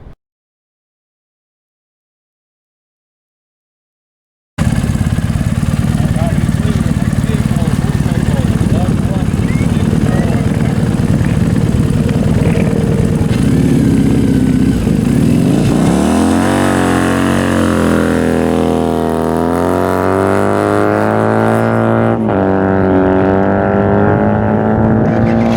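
A vehicle launches hard on the Bonneville Salt Flats. After several seconds of silence a loud engine roar begins, then climbs steeply in pitch through the gears as it accelerates away, with strong wind noise throughout.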